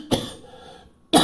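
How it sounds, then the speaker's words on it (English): Two sharp coughs from one person with a flu, close to the microphone, a short burst at the start and another about a second later, with a quiet gap between them. "I'm going to try and not cough too much"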